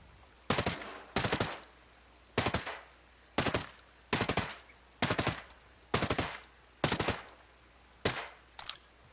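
An assault rifle fires full-auto in Ghost Recon Breakpoint: roughly a dozen short, loud bursts spaced by brief pauses, each a rapid rattling string of shots.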